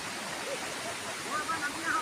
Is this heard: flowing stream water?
yes